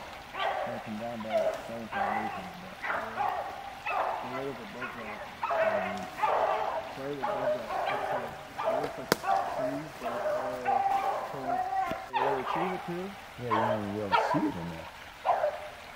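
Pack of beagles baying on a rabbit's trail during a rabbit hunt, a steady run of repeated ringing howls and yelps at middle distance with people talking over them.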